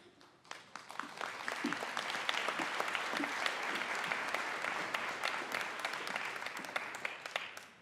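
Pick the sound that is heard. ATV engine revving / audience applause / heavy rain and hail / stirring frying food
audience applause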